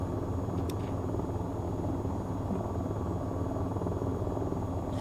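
AH-94 helicopter in the VTOL VR flight game, a continuous steady rotor and engine drone heard from the cockpit, even and unbroken throughout, with no talking.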